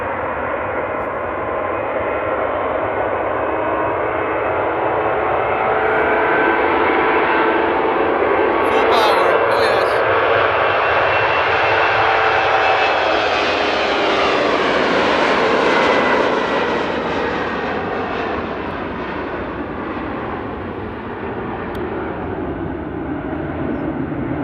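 A loud jet airliner roars as it takes off nearby at Amsterdam Airport, the engine noise swelling and shifting in pitch as it passes, then receding.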